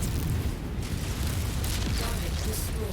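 SRM missile explosions in the video game Mechwarrior 5 roll together into a continuous, dense rumble of booms for a few seconds, loud and heavy, with no clear gaps between blasts.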